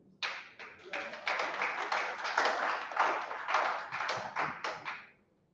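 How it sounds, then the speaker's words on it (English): An audience at a South-East voter campaign event claps steadily for about five seconds, a dense patter of many hands that swells slightly and then stops. "Now you're clapping like someone is forcing you."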